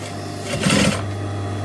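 A sewing machine makes a short, brisk run of stitches on a cotton fabric seam, back-tacking at the end. It is a single burst of under half a second, standing out from a steady low hum.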